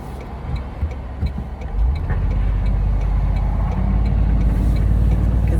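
A 2022 Toyota Tundra pickup on the road with its sunroof and rear window open, steady engine and wind rumble swelling after a couple of seconds into a continuous loud, close drone.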